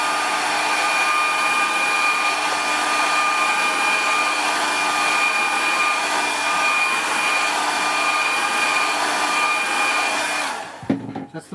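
A hair dryer blows steadily and loudly at close range to dry watercolour paint, a constant whirring roar that cuts off abruptly near the end.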